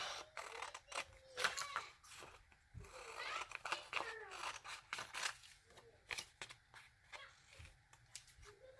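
Scissors snip repeatedly through paper while cutting out Christmas images for a junk journal, a close run of short crisp cuts with paper rustling between them.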